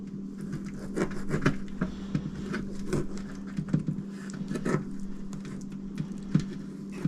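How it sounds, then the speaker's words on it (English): Knife cutting small slits between the bones of a rack of pork ribs, a series of close, irregular scraping taps and short rubbing cuts against a board, quiet and alone. "we're just gonna put some little slits in between the bones"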